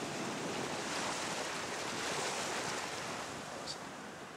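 Waves of a rising tide roll onto the Côte d'Opale shore where anglers are surf casting: a continuous broad wash of surf, moderately distant and steady, mixed with some wind.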